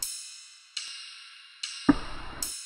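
Ride cymbal hits in a hip-hop beat, four bright sustained metallic rings spaced under a second apart, each decaying slowly, with a single low drum thump near the third strike.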